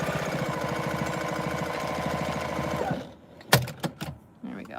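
A sewing machine stitches the short sides of a tote bag with a fast rhythmic needle chatter for about three seconds, then stops, followed by a few sharp handling clicks and thumps.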